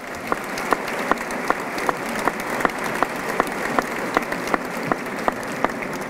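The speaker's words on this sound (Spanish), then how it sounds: "Un fuerte aplauso." Steady audience applause at the opening of an international women's association biennial conference, a continuous crowd clapping with sharper individual claps standing out in a loose regular rhythm.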